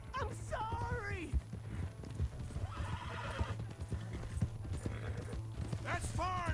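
Horse hooves clip-clopping in the video game Red Dead Redemption 2, a steady trotting rhythm beneath whinnies and game characters speaking loudly.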